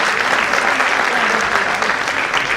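Dense, loud audience applause greeting Nirmal Tiwari onto a stage, a continuous wash of many hands clapping close and steady throughout.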